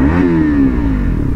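A KTM Duke 250 BS6 with a modified SC Project exhaust revs loudly and close up, the engine pitch climbing briefly and then easing back into a throaty, steady drone.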